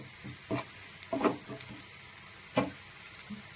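A spice mixture fries quietly in a pan, with faint sizzling broken by a few soft scrapes and clinks of a spoon mixing it, close and low in level, without speech.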